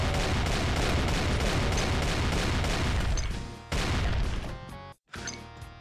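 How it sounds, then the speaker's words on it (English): Rapid rocket launcher fire with a magazine in Doom 2, a loud continuous barrage of blasts and explosions that briefly cuts out, resumes, then drops to near silence before a final burst. "this is basically just a rocket launcher, but with a magazine"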